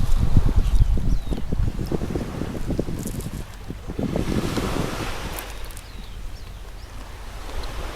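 Sea waves wash onto the beach at Hat Thian Thale in Chonburi, beside a tent campsite, with strong wind buffeting the microphone over a rolling surge.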